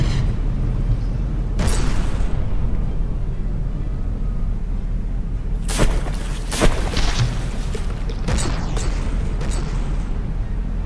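Battleship guns fire and shells explode in the naval combat game From The Depths, several booming blasts clustered midway and near the end over a continuous low rumble, with no talk.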